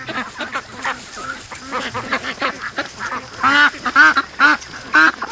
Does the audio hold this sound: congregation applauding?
no